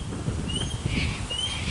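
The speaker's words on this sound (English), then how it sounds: "you might be able to hear the birds in the background." Faint, thin bird chirps in the distance at Wattle Glen, Melbourne, over a steady outdoor rumble and wind noise.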